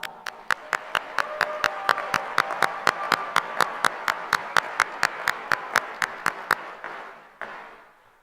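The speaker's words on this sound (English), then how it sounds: "Let's give them a round of applause." Audience applause at the Sauk Rapids-Rice High School 2024 graduation: a steady wash of clapping with one sharp, evenly paced clap standing out close by, fading near the end.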